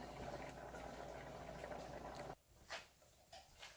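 Taco sauce for Mexican street tacos simmers in a pot, a steady dense bubbling that fills the first two seconds before cutting off, leaving only a few faint scattered noises.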